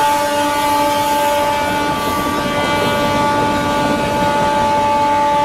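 Telangana Express train passing close by, a loud continuous rumble and clatter with steady tonal hum lasting throughout.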